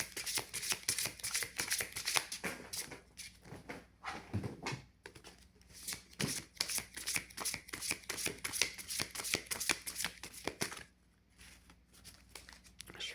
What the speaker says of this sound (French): Je suis pas super bien installée pour mélanger mes cartes, mais on y arrive.